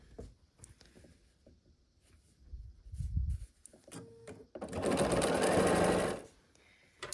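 A sewing machine stitches a row of quilt blocks together, running in a steady loud whir for about a second and a half after some quiet handling of fabric.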